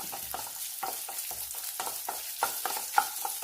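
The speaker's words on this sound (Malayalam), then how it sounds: "ഈ ഒരു മീഡിയം ഫ്ലെയിമിൽ വെച്ചാൽ മതി. തേങ്ങാക്കൊത്തൊന്ന് ചുവന്ന് വരണം." Coconut pieces fry in hot oil in a pan over a medium flame for a Christmas pork curry. A steady close sizzle is broken by regular scraping stirs.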